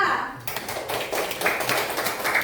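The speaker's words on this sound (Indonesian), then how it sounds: "tepuk tangan untuk kelompok 2" Brief burst of scattered clapping from a group, sparse and uneven, with talking over it.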